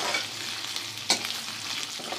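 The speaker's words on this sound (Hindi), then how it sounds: "दो तीन मिनट हम आलू को फ्राई करेंगे मीडियम से कम फ्लेम पर" Potatoes fry in a pan over a medium-low flame with a soft, steady sizzle while being stirred. A single sharper scrape or clatter of the utensil stands out midway, and no voices are heard.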